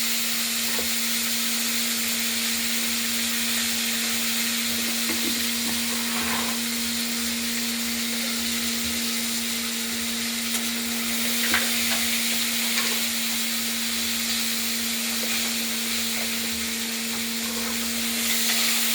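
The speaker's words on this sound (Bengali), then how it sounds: "এই কেটে রাখা আলু ও বিনসগুলোকে এই ফোড়ন দেওয়া তেলের মধ্যে দিয়ে দিলাম।" Cut potatoes and beans sizzle steadily in hot tempered oil in a pan, a loud continuous frying hiss with occasional stirring scrapes, close and without talk.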